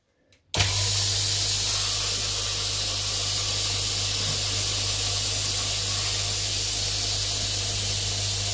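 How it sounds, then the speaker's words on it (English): Vacuum pump switched on with a sharp start, then a loud, steady broadband hiss with a constant low hum as it draws down a vacuum pot, continuing unchanged with no talking. "Then we turn on the pump."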